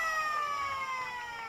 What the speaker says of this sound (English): As the siren goes to complete the game